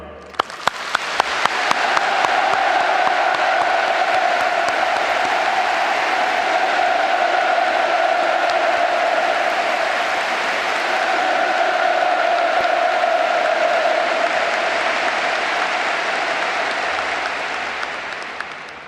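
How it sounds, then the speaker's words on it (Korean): Sustained crowd applause in Pyongyang after a speech by the South Korean president praising Kim Jong Un, a loud dense wash of clapping that swells, holds steady for about eighteen seconds and tapers slightly at the end. "아낌없는 찬사와 박수를 보냅니다"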